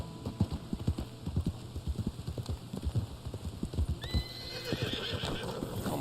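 Horse hooves clip-clopping at a steady trot in Red Dead Redemption 2, close and rhythmic, with a horse neighing partway through.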